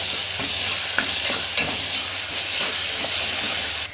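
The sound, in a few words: sautéing tomato with ginger garlic paste for chicken kulambu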